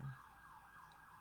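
A siren wails faintly in the distance, its pitch slowly rising and falling as a steady tone under a quiet background.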